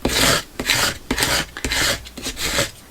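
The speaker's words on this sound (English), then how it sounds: "So just run the scraper along the back side." A scraper rasps along the back side of a dotted Spiral Betty panoramic piece in about six quick, close strokes, each a loud gritty rub with short pauses between them.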